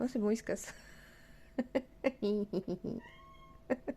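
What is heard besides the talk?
cat meowing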